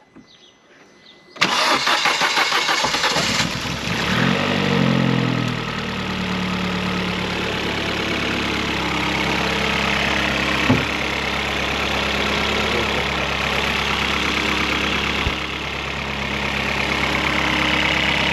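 A Vauxhall Astra VXR Nurburgring engine with a high-flow inlet fitted cranks briefly and catches, then settles into a steady, loud, close idle that runs on without talk.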